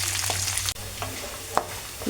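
Tempering spices fry in hot oil for semiya upma, a close, steady crackling sizzle broken by a couple of sharp pops and a brief stir.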